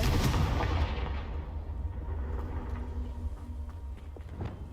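A Confringo blasting spell in a video game bursts with a loud, broadband explosive boom that rolls into a long rumbling decay across several seconds, with no voices over it.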